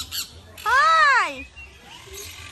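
A pet bird at a Florida swap shop lets out one loud, close squawk rising and falling for under a second, amid faint background noise.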